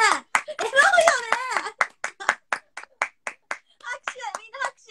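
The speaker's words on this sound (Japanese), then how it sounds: "拍手、みんな拍手。" During an SKE48 Instagram live, women chatter and laugh, then a few people clap in a quick, uneven rhythm, close by and fairly loud, with scattered claps continuing.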